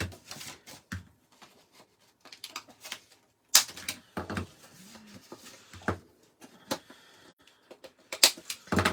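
A handheld corner rounder punch clipping paper corners for a gift bag: a series of short, sharp clicks and snaps with pauses between them, close up and fairly quiet, amid light paper handling.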